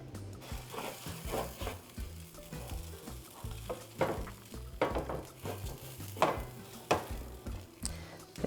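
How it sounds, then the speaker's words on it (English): Washed rice toasts in a pan while being stirred, a soft continuous sizzle broken by repeated scraping strokes of a utensil against the pan. "Toast it until the washed rice is dry."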